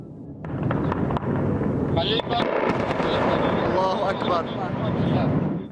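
Parachute bombs explode over besieged eastern Aleppo in a dense, continuous series of loud booms and crackling blasts, heard under a news reporter's narration.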